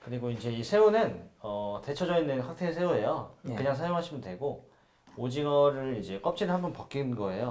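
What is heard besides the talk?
No distinct noise like a dog, phone or traffic.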